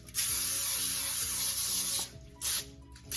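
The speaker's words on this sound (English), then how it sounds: "I'm going to give it a good spray with some cooking spray" Cooking spray hisses in a long burst onto a sheet tray lined with heavy-duty tin foil, followed by two shorter sprays, close and clear with no talk.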